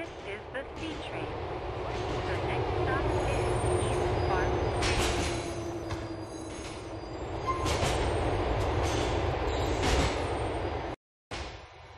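Liberty City subway train in Grand Theft Auto IV rumbling along the tracks, a continuous low rolling drone with rattles, a squeal of wheels and brief bursts, ending in a short cutout before the rumble resumes.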